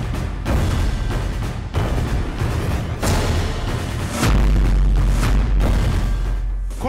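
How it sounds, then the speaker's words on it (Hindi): Bombs dropped by US bombers on Iran's nuclear sites, heard as loud, continuous rumbling booms that swell and roll over several seconds, with a heavier blast surging near the end. "जब ईरान के परमाणु ठिकानों पर अमेरिका बॉम्बर बम बरसा रहे थे, खामनेई के सपनों को चकनाचूर कर रहे थे।"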